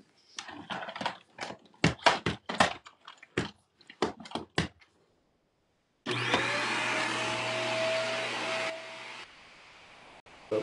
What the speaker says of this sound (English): I'm going to turn on the vacuum in the background.